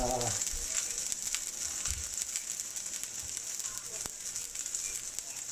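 Eggplant omelette (tortang talong) frying in a pan, a steady bright sizzle and crackle that runs throughout, with a few soft clinks from a utensil.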